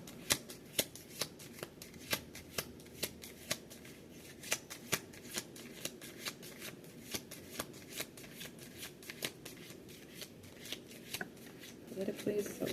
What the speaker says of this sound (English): I would like to get these other cards out.